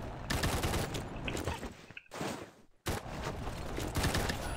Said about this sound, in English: There's somebody shooting me